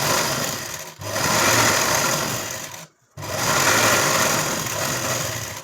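A sewing machine stitches a katori blouse seam in a fast, continuous whirring run, pausing briefly twice before resuming at full speed, close and loud.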